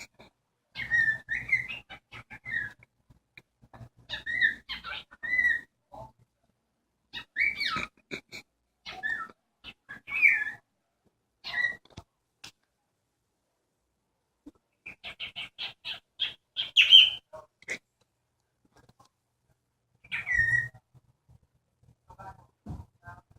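A pet bird chirps and whistles in short, scattered bursts with quiet gaps between them, fairly close by.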